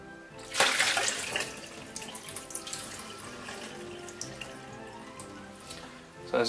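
Hydrogen peroxide and water mixture poured out into a sink, a sudden splashing gush followed by a steady trickle and drips, fairly close and faint overall.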